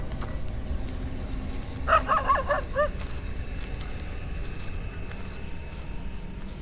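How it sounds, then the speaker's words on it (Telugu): A short burst of several yips or barks from a dog at a middle distance, about a second long, over a steady low background hum. "కుక్క నాన్న చూసి ఎందుకు అరుస్తుందో"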